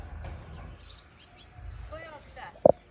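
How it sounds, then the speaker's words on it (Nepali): Small birds chirp near a maize field on a Nepali farm, with brief faint tweets and one sharp louder call near the end over low background murmur. "यहाँनिर चरा उडिरहेछ बसिरहेछ हाम्रो मकैमा"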